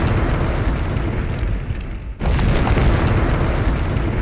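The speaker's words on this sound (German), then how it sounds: "Schnell weg, das explodiert alles gleich." An explosion in the video game Devil or Angel, a sustained roaring blast of dense noise that briefly dips and then surges back louder, with no talk over it.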